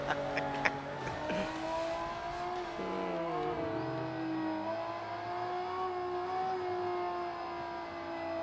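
A car engine at the 2005 Consumer Electronics Show revs and drones with a wavering, shifting pitch while the car shakes; the steady hum runs on without any voices.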